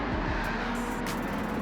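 Race cars in Gran Turismo 7 roar off the start of a night oval race, a dense, steady engine drone with a faint high whine, no talking over it.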